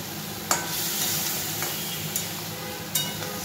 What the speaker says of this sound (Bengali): আর এই মশলাটা এবার আমি এই ওল আর হচ্ছে আলুটা কষিয়ে নেব